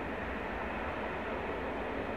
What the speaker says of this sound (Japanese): なんか電車来てますね。